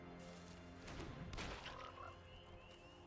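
A frog croak from the Psychic Frog card in MTG Arena rings out as a burst of croaks in the middle, over a steady low game hum, then trails off into faint chiming tones.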